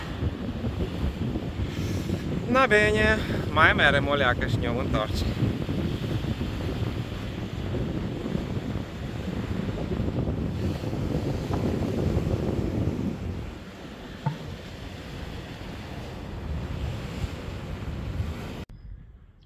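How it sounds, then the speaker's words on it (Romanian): Strong coastal wind near Naples buffeting the microphone in heavy, continuous rumbling gusts, with the sea faintly beneath; someone speaks briefly near the start, and the roar eases toward the end. "Oi, ce bate vântul pe aici"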